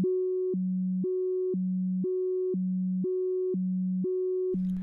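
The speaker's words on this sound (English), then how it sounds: "If we play a note now, we hear a pulsing sound with an interval of 1 octave." A synthesizer sine tone pulses steadily between two pitches an octave apart, driven by a square-wave LFO, with about five even high-low cycles. The tone is clean and sustained, and a short burst of noise comes at the very end.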